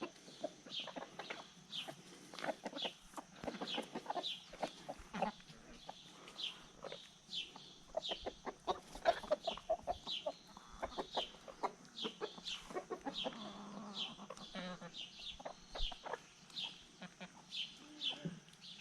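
Chickens on a homestead cluck and chirp repeatedly close by, a busy continuous chorus of short calls with occasional voices in the background.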